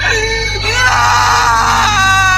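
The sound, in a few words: girl crying sound effect in horror story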